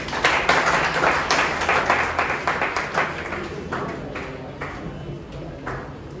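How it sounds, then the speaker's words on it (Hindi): Dense, steady applause from a seminar audience at a motivation coaching session, a room full of people clapping continuously and gradually tapering off, fairly loud and close. "चलिए इनके लिए ताली बजाइए।"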